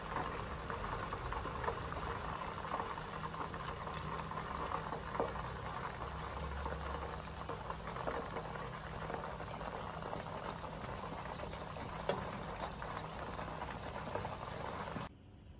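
Steady crackling sizzle of chicken frying in a pan, a dense, constant spitting hiss heard close and fairly quiet throughout.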